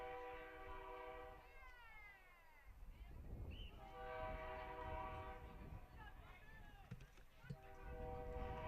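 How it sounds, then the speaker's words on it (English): Train passing through a downtown area, sounding repeated horn blasts over rumbling rail noise; the horn tones cut in and out across the stretch, fairly faint and distant, with voices talking faintly underneath. "watching the train go by. It's pretty neat. Train going right downtown here."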